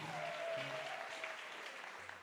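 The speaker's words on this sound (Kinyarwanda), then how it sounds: "dukomere Imana amashyi menshi cyane" Congregation applauding during a church sermon, a steady, dense wash of many hands clapping at once that holds evenly for a couple of seconds.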